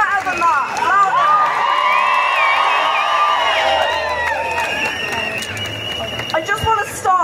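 At Nottingham Pride in Sneddon Square, a large crowd roars with cheers, whistles and shouts that swell loudly, then thin into scattered applause and babble toward the end.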